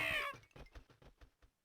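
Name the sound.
cat meowing in Professor Layton video game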